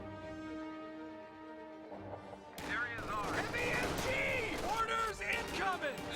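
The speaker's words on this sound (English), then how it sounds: "Riflemen walk straight into a machine gun right here." Machine gun fire in a real-time strategy battle as riflemen advance into it. A quiet musical drone gives way to sudden dense crackling shots and chaotic battle noise, with a voice talking over it.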